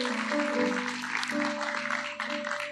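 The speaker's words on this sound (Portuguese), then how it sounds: "você pode aplaudir ao Senhor?" A church congregation claps together in a dense, sustained wash of applause with a steady tone underneath, moderately distant and filling the room for a few seconds.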